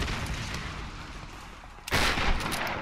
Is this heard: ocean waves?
no